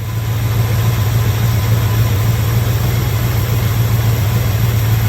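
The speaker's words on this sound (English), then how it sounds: "we've got the Holley installed here, and just letting the truck idle away" A 1975 Ford F250 pickup with a 390 FE V8 and a Holley carburetor idles steadily up close, a smooth, even low rumble that runs unbroken with no voices.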